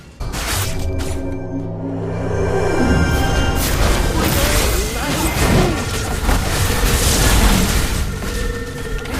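Turret destroyed in a hectic online battle game, a loud booming explosion swelling into a dense, sustained roar of crashing effects and in-game announcer voice lines over the top.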